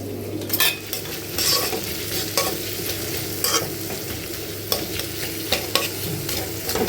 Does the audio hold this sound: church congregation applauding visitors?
no